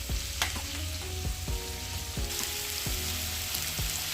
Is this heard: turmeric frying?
yes